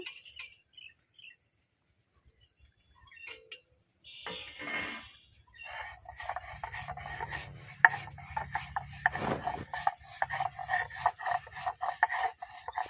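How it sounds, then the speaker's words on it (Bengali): Rhythmic rubbing and scraping of fried nigella and fennel seeds being ground on a stone, starting after a few quiet taps and growing louder and busier toward the end. "কালো জিরে আর মৌরি ভাজা এবার গুঁড়ো করে নেব।"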